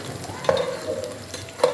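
Onions browning in a pot on a gas stove, a steady close sizzle of frying with two brief stirring scrapes, no talk heard.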